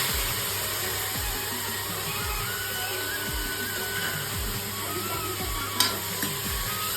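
Tomatoes sizzling in hot oil with garlic, a continuous fry hiss under a steady rhythm of repeated spoon scrapes from stirring.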